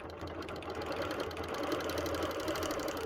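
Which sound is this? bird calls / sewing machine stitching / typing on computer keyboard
sewing machine stitching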